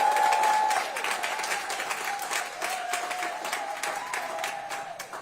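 Sustained applause from a crowd, steady clapping throughout with a faint tonal hum underneath.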